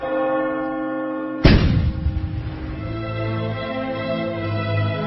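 A church bell tolls a death knell with one heavy strike that rings out and decays slowly over a sustained droning hum.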